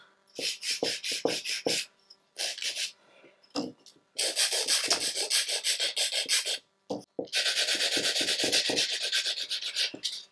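Rapid back-and-forth rasping of a nail file on fingernails, close and crisp in short bursts separated by brief pauses, with longer continuous stretches of strokes.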